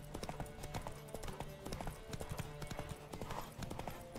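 Horse hooves gallop in The Witcher 3 video game, a fast, steady clip-clop rhythm that stays close and continuous, with faint game ambience underneath.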